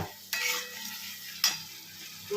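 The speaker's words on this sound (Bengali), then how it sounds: "মশলা কষানো চলছে" Spice paste (masala) being stir-fried in a pan, with two sharp scraping stirs of a spatula over a soft continuous sizzle.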